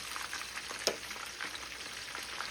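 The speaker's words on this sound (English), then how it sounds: "Fry these prawns till they turn light golden brown." Prawns deep fry in hot oil with a steady, bright bubbling sizzle that stays fairly quiet, broken by one sharp clink of a utensil; no one speaks.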